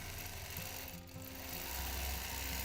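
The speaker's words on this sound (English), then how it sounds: "As I'm quilting the bottom edge of this swoop, I'm making sure that anywhere that seam allowance is sticking up, that I go right to it and tack it down." Sewing machine free-motion quilting along a seam allowance: a steady, rapid mechanical needle whir running continuously and fairly faint, with no speech.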